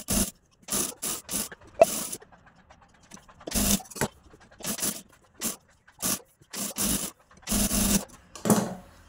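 Sewing machine stitching the lining around all four sides of a simple four-tuck blouse piece, a series of short close bursts of stitching separated by pauses.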